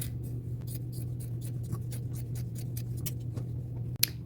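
Scissors snip through a plain white cotton shirt in a steady run of about fifteen short, crisp cuts over a low constant hum, close and moderately loud with no talking.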